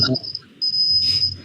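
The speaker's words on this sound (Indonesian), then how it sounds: "Kok bisa nyaring begitu? Oh, tonggeret." Cicadas in tall forest trees give a shrill, steady high-pitched buzz that starts in short bursts, then holds continuously and loudly through the second half over faint low background noise.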